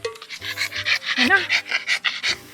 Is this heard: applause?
no